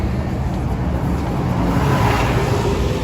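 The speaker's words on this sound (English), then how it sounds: "We got the bus coming crashing through." A bus crashing through a busy Midtown Manhattan street in summer, a loud, broad rumble of engine and roadway noise that stays close and continuous throughout, with no talking.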